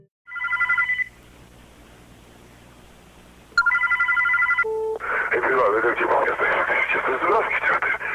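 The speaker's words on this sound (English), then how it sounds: "Then we get a phone call between two very normal looking guys on May 19th, 2002 at 3:16 AM." Telephone ringing inside a Russian analog horror piece: two short electronic ring bursts separated by low hum, then dial-like tones followed by loud, noisy talk over a phone line.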